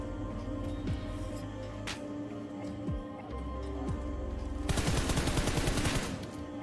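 Gunfire rings out during a close-range fight in the mobile battle royale game BGMI, with scattered single shots followed by a dense burst of rapid automatic fire over a steady game background hum.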